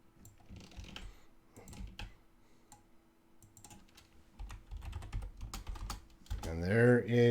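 Tapping on a computer keyboard, quick irregular keystrokes in short bursts at close range, ending with a brief burst of other noise.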